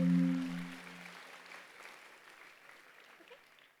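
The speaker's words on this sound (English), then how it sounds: "We should give another round of applause for our friend." Audience applause after a performance at a science fair opening ceremony, a spread of clapping that follows a voice at the start and slowly fades toward the end.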